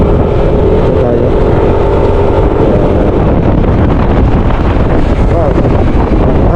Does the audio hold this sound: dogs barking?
no